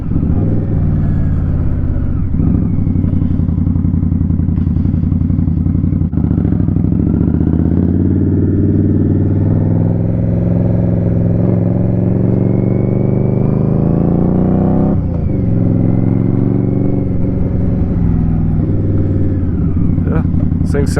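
An Indian Scout Rogue motorcycle with an aftermarket RCX exhaust runs continuously with a deep, throaty exhaust rumble, revving slightly at times, loud and close throughout.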